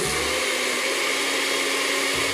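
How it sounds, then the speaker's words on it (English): A kitchen blender runs steadily and loudly at close range, whirring as it purées white beans with soy milk for a heart-healthy cream sauce, with a brief change in motor pitch near the end. "So we're gonna put them in the blender first."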